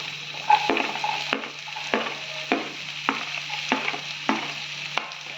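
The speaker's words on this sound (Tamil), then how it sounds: "எண்ணெய் ஊற்றிக்கலாம் இப்போ வெங்காயம் பச்சை மிளகா போட்டுக்கலாம்" Onion and green chilli sizzle in hot oil while a spatula scrapes the pan in regular strokes about every half second, close and clear.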